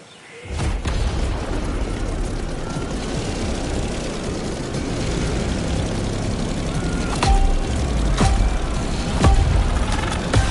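Propeller airplane taking off, a broad, steady engine roar that stays loud and close throughout with a few sharp clicks and knocks late on.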